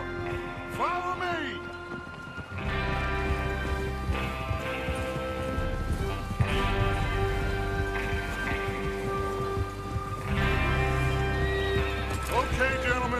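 Horses whinny and neigh repeatedly in the Red Dead Redemption 2 video game, with hoof clip-clops and a rumbling ensemble of riders moving out, loud and busy with overlapping calls under a wash of background sound.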